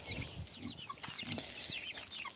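Young chickens and turkey poults cheep and peep in a busy, overlapping chorus, close by, with occasional soft clucks.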